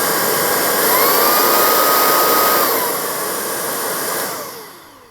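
A Vax Blade 4 cordless vacuum cleaner runs at maximum suction, a loud, steady broadband whine close by that holds level and then winds down near the end, with no voices.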